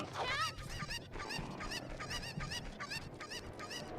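A chicken in the video game Ocarina of Time gives steady, repeated squawking honks in quick succession across the whole stretch, loud and close, with faint background noise.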